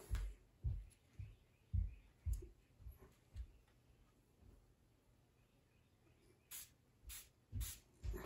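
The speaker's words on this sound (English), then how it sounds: "you spray it with the spray that they gave you" An aerosol can sprays a gauge face wrap on a 1967 Cadillac instrument cluster, giving short hissing bursts near the end after a run of soft low thumps and handling noises.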